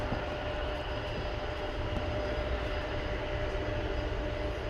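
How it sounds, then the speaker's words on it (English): An unmarked Atlas Air Boeing 767 airliner with its tail lit passes at night at Dallas Fort Worth airport, a steady, broad jet-engine roar holding at constant loudness throughout, no voices. "right in front of us is coming the generic airliner."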